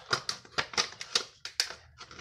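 Rapid rhythmic snips of scissors cutting a plastic cup into pieces, about ten crisp close cuts in quick succession.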